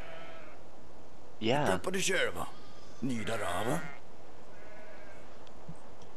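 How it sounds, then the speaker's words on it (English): Two distinct bleats from wooden sheep in the video game Magicka, wavering and nasal, separated by a short pause over a quiet background hum, with a brief spoken word nearby. "Your sheep sound really healthy for being made of wood"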